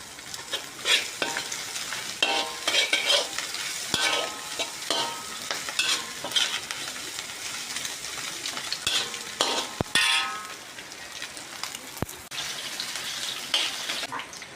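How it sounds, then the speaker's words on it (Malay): Steady sizzling and crackling of mustard greens and fish frying in a pan, with occasional stirring scrapes and clatters, continuous and fairly close. "Sambil goreng sawi tu, goreng pula ikan yang nak masak tocu tu."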